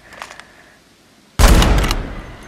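A sniper rifle fires in the mobile shooter game Call of Duty Mobile: one sharp, loud shot bursts in after quiet background game noise and decays with a short echoing tail.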